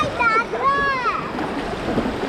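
A raft on a Class I–II stretch of the Lower Pigeon River in the Smokies meets a little choppy water, giving a steady close rush and splash of moving river with a brief voice over it.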